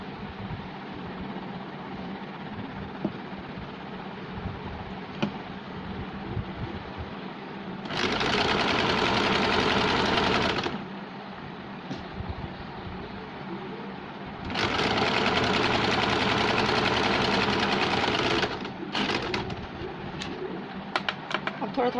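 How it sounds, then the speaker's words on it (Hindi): A sewing machine stitches the armholes of a double-layer top in two long, loud, steady whirring runs, with quieter handling between them and pigeons cooing faintly in the background. "ये दोनों आर्म होल को हम सिलाई लगाएंगे"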